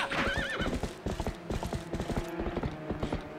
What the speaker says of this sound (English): I do need my horse. That's my horse.